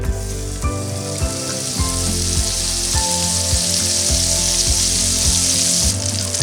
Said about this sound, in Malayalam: പാൻ ചൂടായതിനു ശേഷം സോസ് റെഡിയാക്കാനായിട്ട് നമുക്ക് ഇതിലേക്ക് 2 ടേബിൾ സ്പൂൺ ബട്ടർ ചേർത്ത് കൊടുക്കാം.